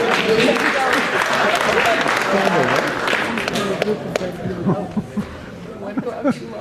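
Applause from an improv comedy night audience, a loud, full burst of clapping that gradually thins out and breaks into a few scattered, isolated claps near the end, with some murmuring voices underneath.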